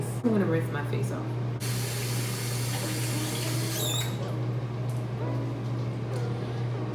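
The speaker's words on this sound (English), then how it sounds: "I'm gonna rinse my face off." Water splashes as a face is rinsed at a sink, with running water under a steady hum and scattered wet splashing bursts throughout, fairly close.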